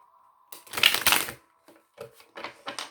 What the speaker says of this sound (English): So I'll just do 2 shuffles, that should be enough.